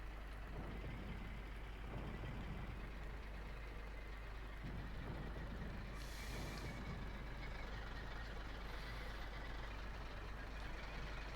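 T-60 light tanks advance in the Graviteam Tactics war game set at the Second Battle of Kharkov, a steady, loud engine rumble with grinding mechanical noise running throughout, plus a brief hissing burst midway and no talking.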